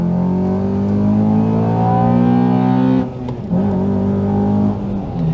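A Honda Accord Euro engine revs hard under heavy acceleration, loud and close, its drone climbing steadily before a brief dip like a gear change, then pulling strongly again.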